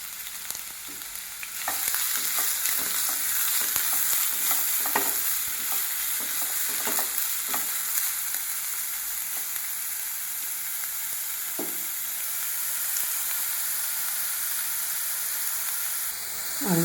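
Cooked banana stem pachadi is stirred in a hot pan, a constant close sizzle and frying hiss with repeated soft scraping strokes of the spoon, no speech over it.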